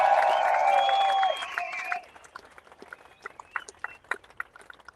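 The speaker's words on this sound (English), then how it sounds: "So give her another round of applause" Crowd applause at a rally in Sydney, loud and dense for the first two seconds, then fading into scattered claps and a few voices.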